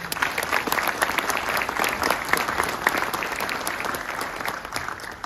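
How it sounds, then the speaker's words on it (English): A crowd at a military pilot training graduation ceremony applauds steadily, a dense, moderately loud patter of many hands that carries on without talking. "So a big round of applause for all of you again."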